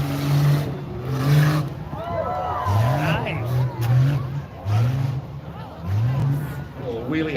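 A Jeep Cherokee races over the jumps of a superglide course at a northwestern Michigan fair, its engine revving in repeated rising surges under a loudspeaker commentator talking throughout.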